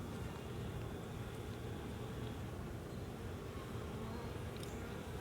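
Honey bees buzzing at a hive entrance, a faint, continuous droning hum of many insects under a low rumbling background, steady throughout with no voices.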